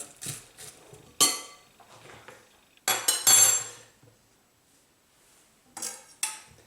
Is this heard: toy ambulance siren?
no